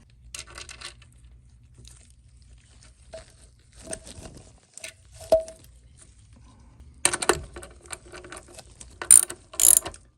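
A small nut being turned onto a roller bushing on a PLS laminator, giving sparse ratchet-like metallic clicks and taps, close and quiet, with a denser burst of mechanical clatter toward the end.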